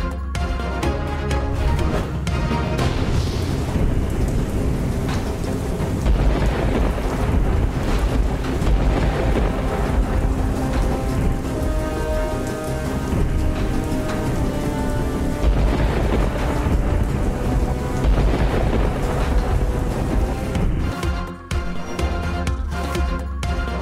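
Heavy monsoon rain pouring over Lahore with thunder as streets flood, a loud, continuous wash of rain with low rumbles, mixed with a steady tonal backing.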